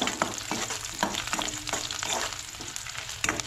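Dry Goan masala roasting lightly in a pan for crab curry, giving a steady close sizzle with repeated scraping stirs of a spatula and no voices.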